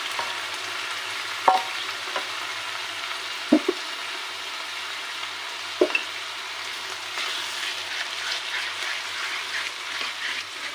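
Yogurt stirred into a prawn curry frying in a pan: a soft steady sizzle with a few sharp spoon knocks on the pan early, then wetter bubbling frying noise.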